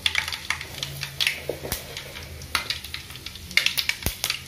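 Mustard seeds popping and frying in hot oil in a pan for a chutney, with a steady close sizzle broken by sharp crackles and a couple of louder pops.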